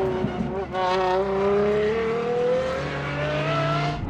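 The naturally aspirated 6.3-liter V12 of an Apollo IE hypercar accelerates, its loud engine note climbing steadily in pitch over several seconds.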